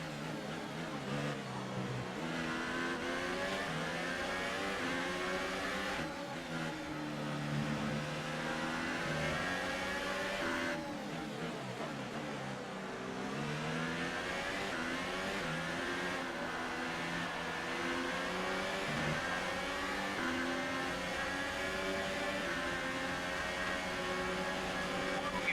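F1 race car in the video game F1 2018 at the Australia circuit, its engine droning continuously with repeated rising and falling revs through gear changes, loud and steady with no talk.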